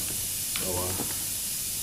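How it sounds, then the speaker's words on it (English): Steady hiss of air escaping through a hole poked in an air compressor hose in a garage during a twin-turbo 440 rat rod build, continuous and close, with a brief murmur of a voice in the middle. "Now I get listened to an air leak because I haven't fixed that hose that I poked a hole in."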